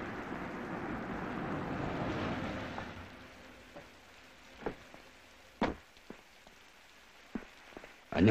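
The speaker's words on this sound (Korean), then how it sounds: "비가 오는데 어서 차에 타십시오." Rain falls outdoors, a soft steady hiss of drops on surfaces that fades after a few seconds, leaving scattered louder drips and taps.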